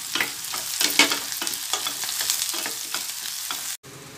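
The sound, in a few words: shallots and green chilies frying in a pan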